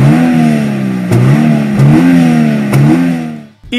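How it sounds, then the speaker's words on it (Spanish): A Toyota GR86's engine revs repeatedly up close, its dual exhaust rising and falling in pitch with a throaty, moderately loud tone before cutting off sharply. "su doble salida de escape, con un sonido muy especial sin llegar a ser muy estruendoso"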